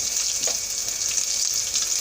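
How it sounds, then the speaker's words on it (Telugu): Mustard-style tempering of green chillies, cumin seeds, cashew pieces and dried red chillies frying in hot oil, a steady close sizzle with light crackles throughout, no talking. "తాలింపుని వేయించుకుందామండి."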